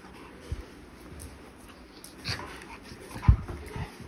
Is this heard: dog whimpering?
yes